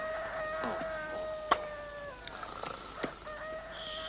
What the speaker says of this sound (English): That ain't no owl. That's a rooster.